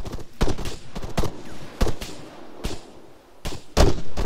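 Rapid bursts of gunfire in the military shooter ArmA 3 during a multiplayer match: sharp, loud shots in irregular clusters, some close and punchy, others trailing off, with no talk over them.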